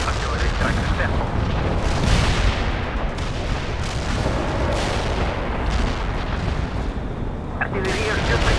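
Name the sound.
artillery barrage in the video game World in Conflict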